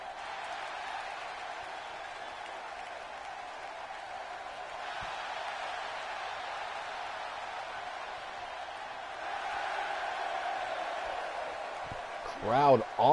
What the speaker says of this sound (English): Crowd on their feet for this. They are pumped.